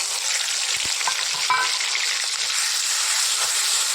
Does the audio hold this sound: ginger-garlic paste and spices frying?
yes